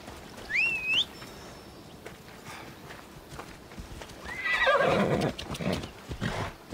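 In the video game Assassin's Creed, a horse whinnies near the start, then a louder neigh follows with snorting, over soft background noise and faint hoofbeats.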